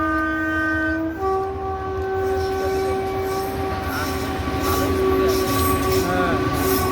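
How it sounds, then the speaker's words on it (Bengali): A train at a railway crossing sounds a long, loud horn blast that shifts pitch as it nears, over rumbling wheels and rail noise. "এখন কখন আসবে ট্রেন, কখন খুলবে গেট"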